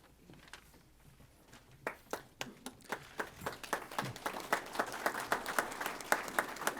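Applause at a county volunteer fire and rescue association awards ceremony, starting with a few scattered claps that build into a steady rhythmic clapping from the crowd, growing louder and denser toward the end.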